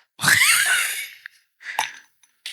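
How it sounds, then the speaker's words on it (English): Ice cubes tumble into a cocktail glass with a bright rattling clink that rings out for almost a second, then two shorter clinks follow as the cubes settle. "So adding some ice cubes."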